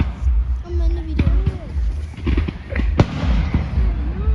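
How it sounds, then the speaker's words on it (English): Fireworks at the St Albans fireworks spectacular 2022 crack and pop in quick irregular bursts, some sharp and close, over steady crowd chatter and a whistling rocket or two. "Enjoy the sounds of fireworks."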